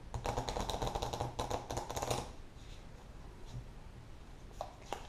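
Pandemic Legacy game cards being shuffled, a dense run of close papery riffling and flicking for about two seconds, followed by quieter scattered card taps and handling noises.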